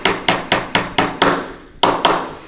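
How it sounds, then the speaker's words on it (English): Hammer strikes on a wooden birdhouse ring out in a quick series of about eight sharp, loud blows, evenly spaced with a brief pause before the last two, each hit decaying quickly. "I don't want you to keep hammering once it's even"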